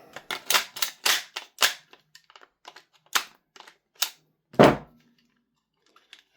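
A magazine goes into a gas blowback airsoft rifle as a quick series of sharp plastic and metal clicks, then a single louder knock as it is struck home, close and otherwise quiet.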